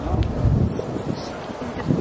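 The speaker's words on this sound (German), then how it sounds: "Ah, der Wind kommt zu uns." Wind blows on the shore of Lake Zurich on a winter night. It buffets the microphone as a loud, rumbling, gusty roar that rises and falls over two seconds, with faint voices underneath.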